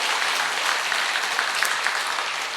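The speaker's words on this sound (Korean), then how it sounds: "여러분이 힘차게 박수로 격려해 주시기 바랍니다" A church congregation gives dense, vigorous applause during a Sunday service, many hands clapping together in a loud, even roar with no talk over it.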